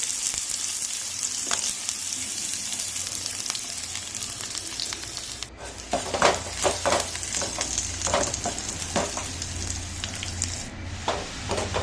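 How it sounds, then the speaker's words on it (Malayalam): Mustard seeds fry in hot oil in a pan as curry tempering, a steady close sizzle with scattered sharp pops and crackles running throughout, no voices over it. "കറിക്ക് വേണ്ടി കടുക് വറുത്ത്"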